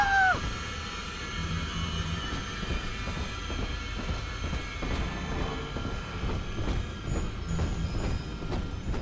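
A train starts up in the BioShock video game with a brief rising whistle at the start, then a steady rumbling run with rhythmic clacking of wheels growing more regular, loud and close.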